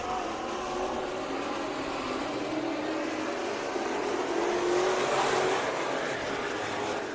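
Race cars roar through a heat race at Bakersfield Speedway, a steady, fairly distant engine drone that swells slightly midway as the pack sweeps past.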